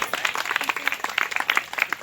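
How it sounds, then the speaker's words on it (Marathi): Guests at a haldi ceremony clap together in a fairly loud, dense burst of applause that holds steady throughout, with faint voices mixed in. "याच्यासाठी स्वतःसाठी एकदा जोरदार टाळ्या होऊन जाऊ देत"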